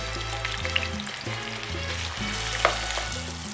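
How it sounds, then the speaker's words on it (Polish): Continuous crackling sizzle of onion frying in hot olive oil in a saucepan, close and steady, with a low tonal hum underneath. "W rondelku rozgrzewamy oliwę. Wrzucamy cebulę i smażymy około 7-8 minut"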